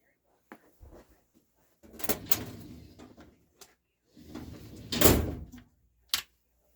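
A top drawer of an office filing cabinet is pulled open, with soft slides, clunks and rattles of the drawer and its contents, several separate bursts, close and fairly quiet, with no talk.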